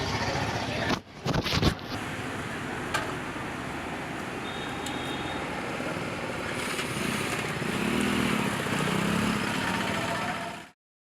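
A motorcycle engine drones steadily and fairly loudly throughout, with a few sharp knocks near the start and a slight swell in level toward the end before it cuts off.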